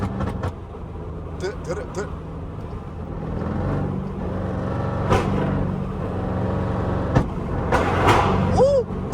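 A 5.7 Jeep with flame-throwing exhaust rumbles loudly from inside the cabin on a night drive, its engine drone steady with a few sharp pops and bursts, while voices talk and shout over it.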